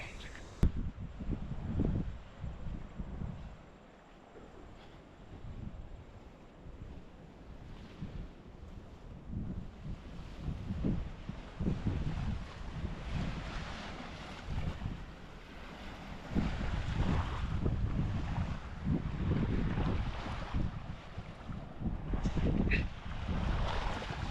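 Strong wind buffets the microphone on the Cape Lookout National Seashore, with surf rolling and crashing underneath in a loud, continuous roar that surges and eases throughout, no voices present.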